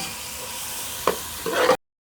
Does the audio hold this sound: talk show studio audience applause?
no